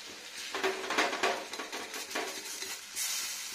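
Ajwain leaf pakoras frying in a small amount of oil, a steady soft sizzle with scattered stirring and utensil scrapes close by, no talk.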